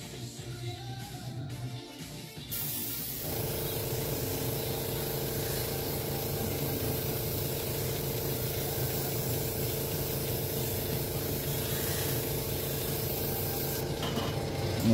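Steady, continuous hiss of an airbrush spraying paint onto rivets, close and even for most of the stretch after a brief start, with no talk.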